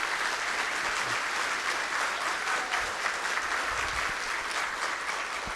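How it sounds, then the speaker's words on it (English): Steady, dense applause from a forum audience fills the whole stretch at an even level, a continuous wash of clapping with no voices over it. "could we give an applause to Gayla Mullins?"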